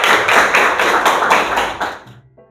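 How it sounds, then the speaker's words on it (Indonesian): A class of schoolchildren in an Indonesian classroom claps for a student group in a loud, rhythmic pattern of about eight beats, then the clapping fades to near silence. "Tepuk tangan untuk kelompok 4"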